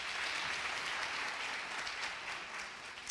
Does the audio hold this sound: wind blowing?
no